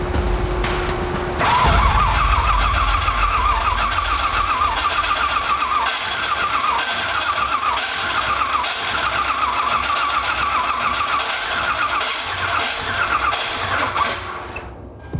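A 6.0 LS V8 swapped into a Nissan 240SX cranks with a starter whine, then catches and runs, holding a loud, steady idle close by for about twelve seconds before shutting off abruptly.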